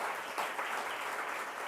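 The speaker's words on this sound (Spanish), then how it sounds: "Un aplauso para Isabel, que trabaja muchísimo en esto." An audience at a business families commemoration event in Panama gives steady, dense applause, a continuous wash of clapping heard throughout.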